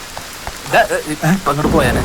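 Steady rain patters on surfaces close by, a continuous hiss beneath voices talking in a film scene.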